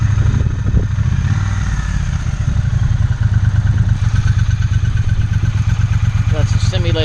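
2018 Triumph Bonneville motorcycle idling in neutral, a steady loud low engine rumble running throughout with clattery mechanical texture, while people talk over it.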